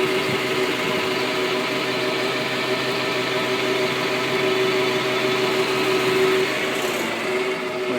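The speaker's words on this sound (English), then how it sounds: "we're just gonna pump the fuel right back into the tank" A 1,000-gallon 2004 AVGAS fuel truck's engine runs at a steady idle-like drone while pumping fuel back into its tank, loud and close with a constant low hum and no speech.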